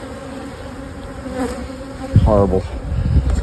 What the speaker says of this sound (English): This is why you don't work bees in the rain.